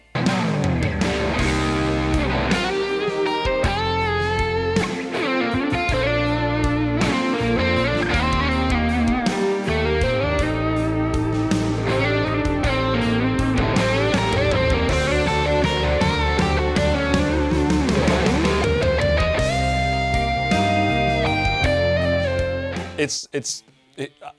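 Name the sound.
electric guitar through amp simulator plugin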